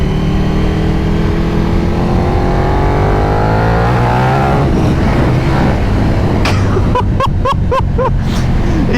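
A KTM 1290 Super Duke R naked motorcycle accelerates hard on the road, its engine note climbing steadily under loud wind rush, then sharp rapid gear-shift bursts near the end.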